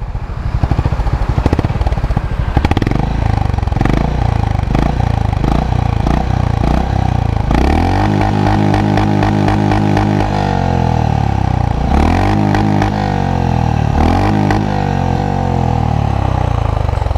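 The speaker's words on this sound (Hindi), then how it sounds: "थोड़ा सा इसको रेव करते हैं और देखते हैं." A Honda CB350 motorcycle idles with a steady, thumping exhaust beat, then is revved several times in sharp bursts that rise and fall back to idle, loud and close with no talking.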